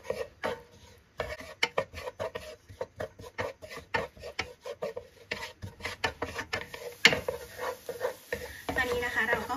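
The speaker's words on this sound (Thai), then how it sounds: "แล้วก็ผัดไปเรื่อยๆให้เขาหอมเลยนะคะ" Chopped chili, garlic and coriander root stir-fried in oil in a pan, a spatula scraping and clattering in quick irregular strokes with a faint sizzle rising toward the end, close and alone.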